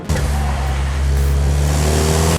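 A small two-cylinder 2014 Fiat 500C TwinAir engine revs steadily nearby, a low droning hum holding for a couple of seconds with no talk.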